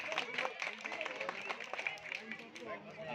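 A crowd at a political rally claps and cheers steadily throughout, with chatter and voices mixed in.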